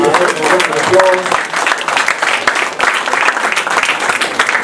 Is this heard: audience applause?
yes